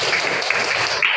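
Students in a classroom clap together after a correct answer, a dense, steady patter of many hands that stays close and fairly loud for about a second, with no voices on top.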